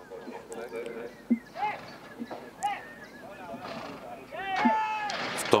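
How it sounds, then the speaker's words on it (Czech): Horses at a race meeting at the Most hippodrome, loaded into the starting stalls before a 2200 m handicap, give several short neighs and whinnies amid crowd noise and an announcer's commentary. "Koně v boxech."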